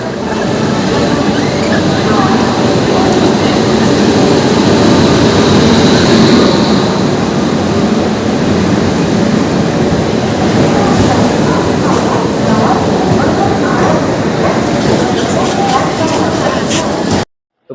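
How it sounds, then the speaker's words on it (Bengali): Inside a general compartment of the LHB-coached 15722 New Jalpaiguri–Digha Paharia Express, a steady loud rumble and rattle of the running train continues throughout, with voices in the carriage. "এটা হলো পনেরো হাজার সাতশো বাইশ নিউ জলপাইগুড়ি দীঘা পাহাড়ি এক্সপ্রেস"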